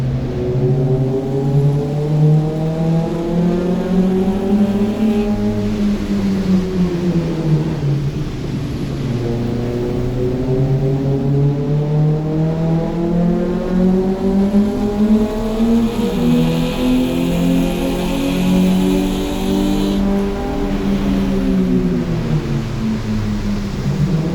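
Race car engine roaring steadily at a Lemons race at Ridge Motorsports Park, loud and close from onboard, with the pitch rising and falling through gear changes and corners over constant road and wind noise.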